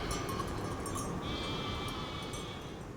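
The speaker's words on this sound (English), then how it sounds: "some goats getting into my frame" Goats bleat by a small river on a windy day, a steady call rising partway through and holding over constant wind rumble, moderately close and alone with no talk.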